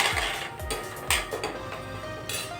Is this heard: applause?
no